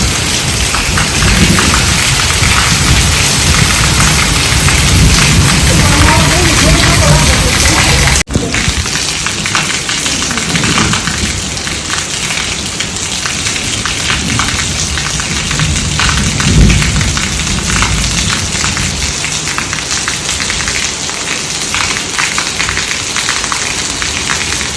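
Heavy monsoon rain pours down in a steady, dense roar, with a low thunder rumble mixed in, loud and continuous throughout.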